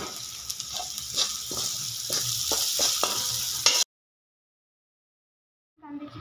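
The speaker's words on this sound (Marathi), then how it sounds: "आता परत आपण हलवून घेऊ." Chilies and turmeric sizzle in hot oil as a spoon stirs and scrapes through them, a steady close frying hiss broken by clicks, then it cuts to silence before a short sizzle returns.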